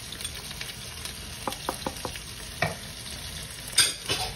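Chicken frying in a pan with spices and salt being stirred, a soft steady sizzle broken by several scraping spoon strokes, a few quick taps and then louder stirs near the end, close and fairly quiet.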